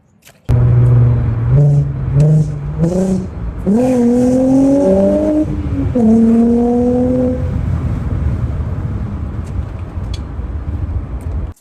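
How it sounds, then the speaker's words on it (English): A Nissan R32 car out on a sunny-day drive, its engine rising through a run of quick gear changes as it accelerates, then holding a steady, loud, close drone with road noise for several seconds. "Take the R32 for a little drive to JR."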